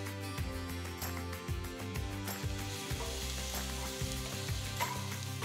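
Steady sizzling of chopped tomatoes, green chilies and curry leaves sautéing in a pan over a low flame for egg pepper masala, continuous and close, with faint stirring scrapes and a low background hum throughout.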